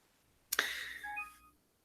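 Phone dialing tones sound once in a quiet room from a telephone that has a problem, a sharp click followed by a brief run of electronic beeps that fades out after about a second.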